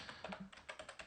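A password is typed on a computer keyboard in a quick, uneven run of about a dozen close, crisp key taps, with no talk over them.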